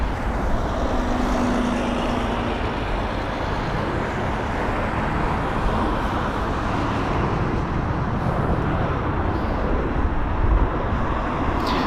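An Airbus A380 taxiing off the runway at London Heathrow, heard as a broad, steady jet roar and rumble at moderate distance that stays constant throughout, with no voices.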